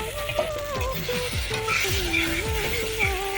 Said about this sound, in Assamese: এনেদৰে ভাজি আৰু মই এতিয়া ভাজি থকা প্ৰায় 10-15 মিনিট হৈয়ে গ'ল